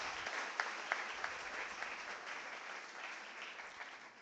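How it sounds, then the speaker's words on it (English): Audience applause for award nominees at a foundation day ceremony, a steady wash of clapping from a crowd, fairly distant and even throughout with a few sharper individual claps standing out. "Can we have a round of applause for all the nominees who are there in front of us?"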